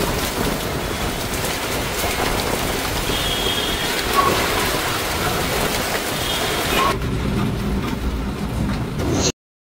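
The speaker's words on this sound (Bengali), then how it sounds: "বৃষ্টি শুরু হয়ে গিয়েছে," Heavy rain falls during a Kalbaishakhi storm, a dense, steady roar of drops that continues without pause and then drops to a thinner, muffled patter near the end.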